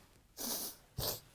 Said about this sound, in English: Don't know where that sneeze came from.